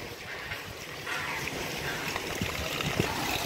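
Faint mountain stream water flows steadily near a dacha, a soft continuous wash of trickling water with a slight swell partway through, heard alone and at a modest distance.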